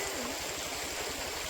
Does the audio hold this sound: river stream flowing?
yes